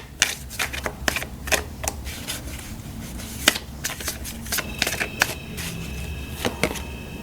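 Tarot or oracle cards shuffled by hand during a card reading, producing repeated crisp riffling snaps and soft flutters in quick irregular bursts, close and alone with no talk.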